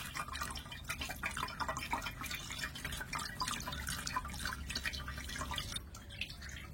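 Running water pours steadily over fresh chhana curd in a strainer, a continuous soft splashing and trickling with drips, heard close and fairly quiet throughout.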